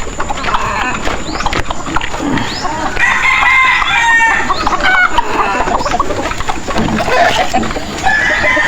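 Chickens at a backyard breeding pen cluck and squawk at close range while a rooster crows, their calls overlapping in irregular bursts with a person talking among them.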